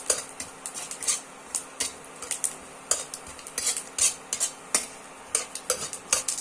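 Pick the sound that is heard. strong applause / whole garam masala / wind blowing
whole garam masala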